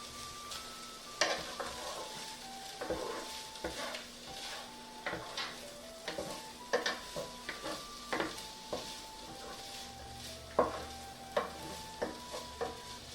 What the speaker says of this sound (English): Now we're simmering.